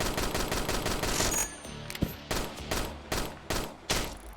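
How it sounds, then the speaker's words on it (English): Gunfire from a character's weapon sounds in a video game under development. A fast, continuous burst of shots runs first, followed by several separate short bursts spaced roughly evenly, with no talking. "I can move and he'll shoot in the correct direction now."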